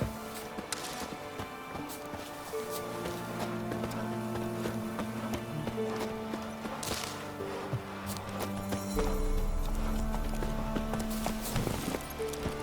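Roach, Geralt's horse in The Witcher 3, moves with a steady run of hoofbeats over a music bed, with a few whip-like cracks and a low rumble building near the end.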